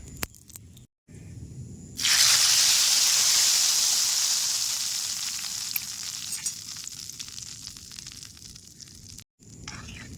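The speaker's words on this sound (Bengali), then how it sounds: "এই যে আমি খিচুড়িতে তরকা দিলাম" Hot oil tempered with fried cumin and spices is poured into a pot of broken-wheat khichuri, bursting into a loud, steady sizzle that slowly fades over several seconds; before it starts, a few brief clatters and quiet sounds are heard.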